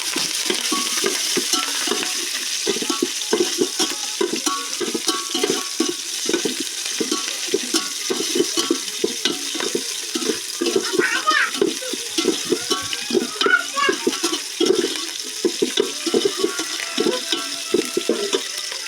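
Green chillies, curry leaves and onions fry in a pan for chicken biryani while a spoon stirs and scrapes them again and again, a steady near sizzle under the rhythmic stirring.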